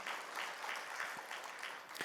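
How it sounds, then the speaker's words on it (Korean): A church congregation applauding in praise during a sermon, a steady, dense wash of clapping heard from within the room, fairly quiet and even throughout. "우리 그런 일을 이루신 하나님께 감사 영광의 박수 올려드리겠습니다"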